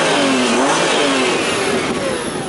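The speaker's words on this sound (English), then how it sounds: "I'll give the engine a rev, maybe you can hear it tick over." An Audi TT 3.2 Quattro with automatic gearbox and 250 bhp revs its engine close by, a loud, sustained mid-pitched roar that rises and falls smoothly without any voices.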